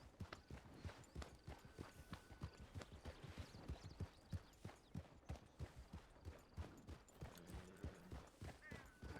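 Horse hooves canter in the western video game RedM, a quick steady clip-clop rhythm of soft thuds running throughout, moderately close, with a faint whinny and no talking.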